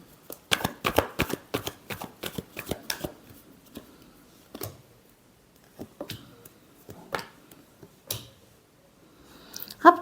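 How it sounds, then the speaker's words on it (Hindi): Tarot cards being shuffled, a rapid run of crisp riffling clicks in the first few seconds, then scattered single card snaps and slides at a softer, sparser pace, close and fairly quiet. "Last shuffle."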